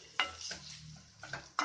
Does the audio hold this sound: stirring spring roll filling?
yes